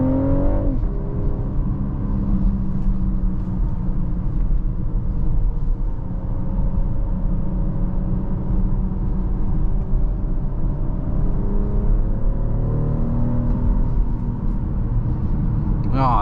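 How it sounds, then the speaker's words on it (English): A 2024 BMW X6 40i SUV driven hard through curves, its engine rumbling steadily and rising and falling with throttle inside the cabin, continuous and moderately loud with no break. "Oh, this car is fun through the curves, even for such a large SUV."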